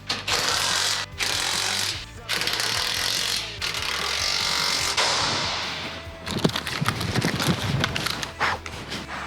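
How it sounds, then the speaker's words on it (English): A 12 volt rattle gun hammers in repeated bursts while tightening bash plate bolts on a Ford Ranger PX, loud and close with short pauses between runs and a busier rattling stretch toward the end. "It's just a matter of get the rattle gun and finish her off."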